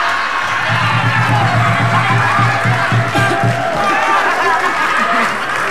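Studio audience on an Indonesian TV comedy talk show applauding with cheers and whoops, a loud, continuous crowd roar with clapping and a few raised voices.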